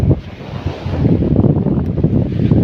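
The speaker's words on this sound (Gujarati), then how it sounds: "જો તમે મોટી લોટો આવે છે." Sea waves washing onto the shore make a continuous rushing surf, heavily buffeted by wind on the microphone.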